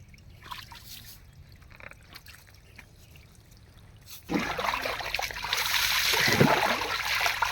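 Spring water flows from a hole in a rock in a wooded area, a soft trickle at first that swells abruptly into a louder, fuller splashing stream close by.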